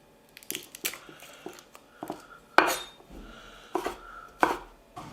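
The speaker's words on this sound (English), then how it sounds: "same thing with the garlic, just take off the skin and we're going to give it a quick chop" A knife quickly chops peeled garlic cloves on a board, a string of crisp, irregular knocks and taps, close and clear, with no voices.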